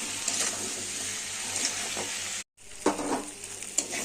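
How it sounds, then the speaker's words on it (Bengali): Potatoes frying in a pan with salt and turmeric, a steady close sizzle with occasional stirring scrapes and clinks, no talking. "নুন আর হলুদ দিয়ে ভালো করে আলুটাকে ভেজে নেব।"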